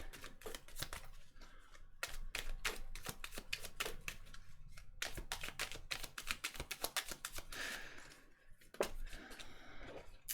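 Tarot cards shuffled by hand during a reading, a close run of crisp rapid riffling snaps and papery rustles with brief pauses between bursts and no voices.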